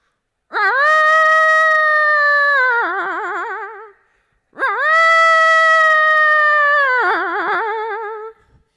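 A human voice imitates a hungry dog, making two long, loud howls separated by a short pause, each ending in a wavering, whimpering tail.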